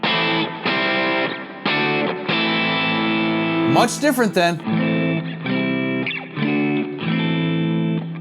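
Electric guitar notes picked hard with a bright, slightly distorted tone, sustained chords ringing out, and a brief voice speaking midway.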